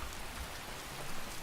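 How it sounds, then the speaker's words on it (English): Steady rain in the modded video game Skyrim near Rorikstead, a soft, even hiss of falling drops with no voices. "It's raining."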